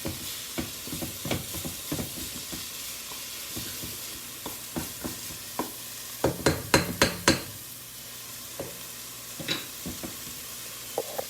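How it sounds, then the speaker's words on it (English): Spinach and collard greens cook down in a hot pan, with a steady low sizzle under repeated sharp stirring scrapes and clacks of a utensil, growing busier midway; no one speaks. "all we're doing is cooking down spinach and collard greens together"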